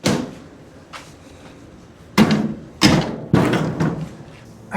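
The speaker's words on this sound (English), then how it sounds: "Holy cow, this door is heavy." A heavy, badly rusted car door is shifted and handled, giving a few loud metallic thumps and clanks spaced about a second apart, with quieter scraping in between and no voices.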